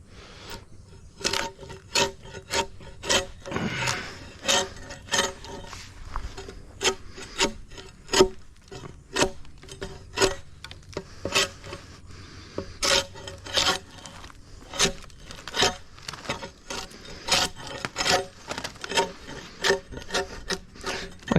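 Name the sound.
scraping, chipping away old paint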